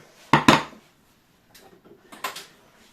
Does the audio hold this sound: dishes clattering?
yes